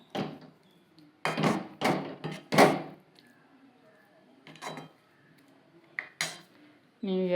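Metal pots and utensils clank and scrape in several sharp bursts with quiet pauses between, close by, and a voice speaks briefly near the end.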